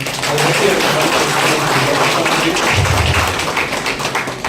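An audience claps for Nawaz Khan at a Tamil Nadu government meeting with global Tamil engineers: a dense, steady wash of applause that fills the whole moment, with a few heavier thumps near the end.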